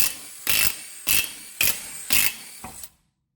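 Impact gun with a 19mm socket spinning off wheel lug nuts on a 2010 Dodge Grand Caravan during a front brake job: five short, loud, close rattling bursts in an even rhythm, separated by brief pauses, then silence.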